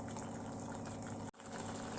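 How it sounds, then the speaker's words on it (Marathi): Water pours steadily into a pan of spinach and sweet corn with a soft gurgling splash, briefly broken by a short pause before continuing. "थोडंसं आता मला पाणी टाकायचं ह्याच्यात"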